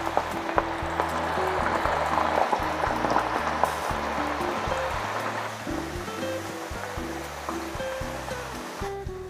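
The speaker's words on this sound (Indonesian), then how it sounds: "Ini digoreng sampai matang, sampai kecoklatan ya." Small pieces of potato fry in hot oil in a pan with a steady, dense hiss and crackle, heard under continuous background music.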